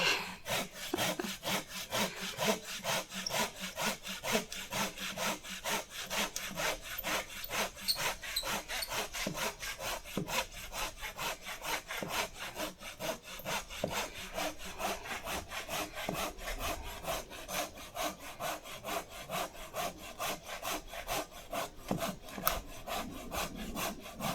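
A hand saw cuts through deadfall timber on a hillside with steady, rapid rasping strokes, close and continuous for over twenty seconds.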